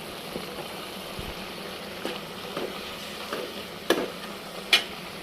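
Dried ribbonfish curry sizzles steadily in a pan while being stirred, with scattered scraping clinks and a couple of sharper knocks near the end.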